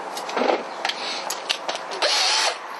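A power drill from an Aldi drill kit whirs in short bursts, stopping and starting several times before one steadier run, close by and loud.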